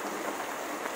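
Heavy rain pours outside a village home, a steady dense hiss of drops on surfaces filling the whole moment without pause.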